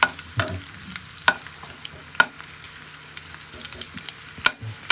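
Potatoes and spam sauté in a pan, a steady close sizzle broken by occasional scrapes and clinks as a utensil stirs the food.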